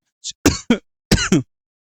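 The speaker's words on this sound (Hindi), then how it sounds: "सॉरी भाई, खांसी हो गई" A few short, sharp coughs and throat clears in two quick bursts, close and dry, with no speech.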